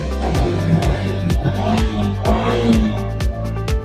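A Suzuki DA63 4WD engine runs close by, a rhythmic low exhaust pulse through the muffler with a steady throb and slight rises in revs.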